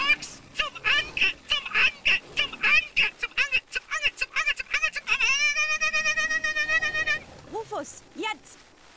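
An attacking chicken in the video game Deponia Doomsday gives loud, repeated squawks and honking clucks in quick bursts, followed by a sustained shrill cry and a few rising calls, with talk mixed in.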